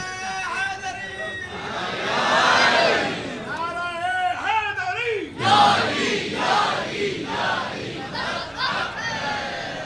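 A crowd at a majlis shouts a religious slogan in loud, rising bursts, with several waves of massed voices overlapping and echoing through the gathering.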